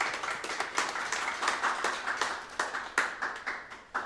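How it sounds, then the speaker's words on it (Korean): A Korean church congregation applauds during a Sunday worship service with moderate, fairly quiet clapping. Individual claps stand out in an uneven, ongoing rhythm, and no one speaks over it. "박수 한번 드립니다"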